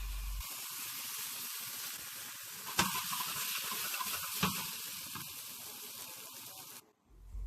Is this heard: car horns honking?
no